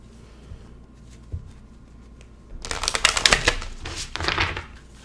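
Angel oracle cards being handled and shuffled, a quiet stretch with faint taps giving way to a burst of rapid papery riffling and flicking clatter, close and fairly loud, with no talking.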